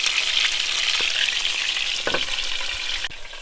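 Steady, loud sizzling of chicken browning skin-side in a hot pan, with a few soft clinks and scrapes of a utensil moving it around.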